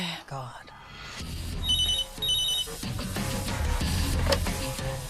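A hotel room telephone rings late at night in repeated bursts of electronic trilling, loud and close, over a background of dramatic music, with a voice speaking French.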